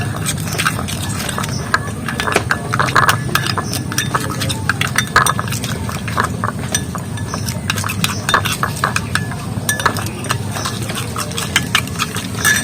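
A leaf powder mixture for a hair remedy is beaten in a bowl, giving steady, rapid clinks and scraping knocks that continue at a brisk, uneven rhythm, close and fairly loud throughout.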